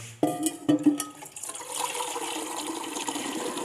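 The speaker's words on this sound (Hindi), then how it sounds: "अब आपने सबसे पहले जो है वो पानी लेना है इस जग में।" Water runs and splashes into a jug, beginning with a few clattering knocks of the vessel before a steady pour continues up close with no talking.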